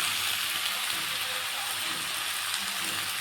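Chopped vegetables frying in a pan for a dried fish curry, with a steady, dense, loud sizzle that holds evenly throughout, close up and with no voices.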